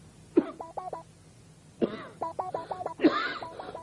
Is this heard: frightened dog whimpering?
no